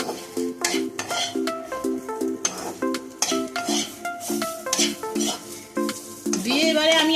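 A spoon scrapes and knocks in a sizzling pan as masala of chana dal, urad dal, nuts and green chilli is stirred into pointed gourd fry. The metallic stirring clatters in uneven bursts over the frying hiss, with melodic background music throughout.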